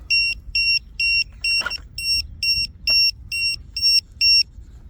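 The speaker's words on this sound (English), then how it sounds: "I can certainly hear the beeper." An electronic beeper on a 3D printed RC model aircraft sounds a regular series of about ten short, high-pitched double-toned beeps, evenly spaced and clear over faint background noise.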